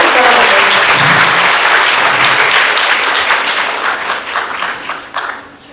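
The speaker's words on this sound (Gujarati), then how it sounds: "એના માટે ખૂબ જોરદાર તાળીઓ પાડો" Loud, dense applause from an audience at an event, with many hands clapping continuously and gradually thinning out and fading near the end.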